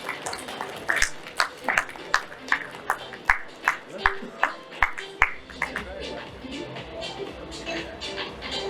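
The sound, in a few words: audience applause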